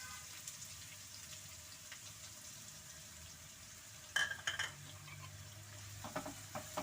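Onions frying in a pan for a paneer gravy, a quiet steady sizzle with a brief burst of stirring clatter midway and light scraping toward the end.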